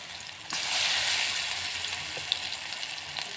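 Gram flour batter pakoras seasoned with turmeric and salt dropped into hot oil, a sudden loud sizzle and bubbling that starts abruptly and holds steady, with faint clinks, no talking.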